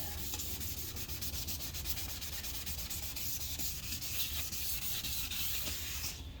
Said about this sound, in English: let's switch over to the 600 grit sandpaper and see if we can't get this surface nice and smooth